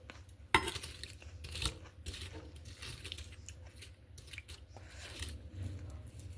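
A sugar-coated candied treat is bitten with one sharp crunch, followed by steady close chewing and smaller crunches, with faint kitchen background and no talking.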